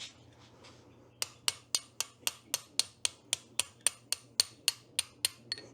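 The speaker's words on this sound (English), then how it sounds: "Then take a punch from this side." A hammer drives a punch against a ramshaft to knock it out of its bracket: about fourteen sharp, ringing metallic strikes in an even, steady rhythm, close by, with no talking.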